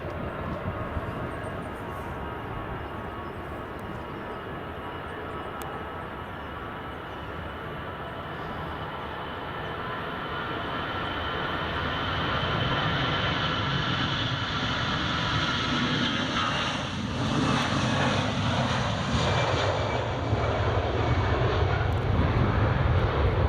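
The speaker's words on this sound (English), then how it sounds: "That was actually quite a long takeoff roll for the Dublin flight." An Aer Lingus airliner bound for Dublin takes off at Edinburgh Airport, its jet engines giving a loud, steady roar that builds as the long takeoff roll goes on, with no voices over it.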